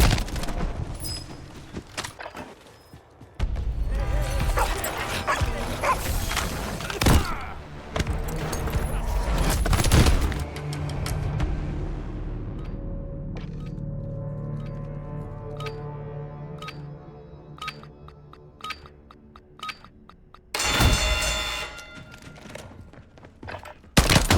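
Gunfire in the gulag of the Call of Duty Warzone video game, with loud bursts of rapid shots and booming impacts stretching through most of the stretch, then isolated clicks and a final heavy burst.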